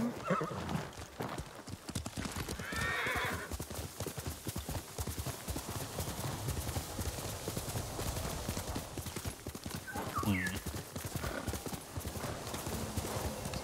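A horse gallops in the Ghost of Tsushima video game with steady, close clip-clop hoofbeats throughout, and a sharp whinny rings out near the end.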